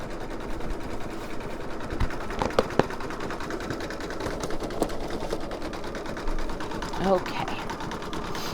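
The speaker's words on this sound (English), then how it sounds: "So now it's going to stitch a little bit on either side." An embroidery machine stitches with a fast, steady mechanical whir and rattle, continuous throughout, with a brief spoken word over it.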